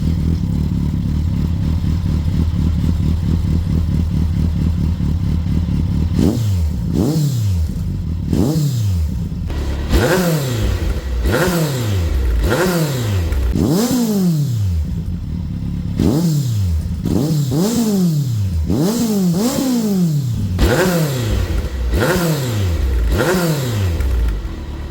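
A Kawasaki Concours 14 motorcycle with a Delkevic slip-on exhaust, run without its dB killer, idles loudly up close. It then gives a long series of quick throttle blips that rise and fall in pitch.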